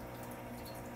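Olive-flavoured vodka distillate runs from a still's parrot into a glass jar as a steady, quiet, continuous trickle of liquid with no pauses.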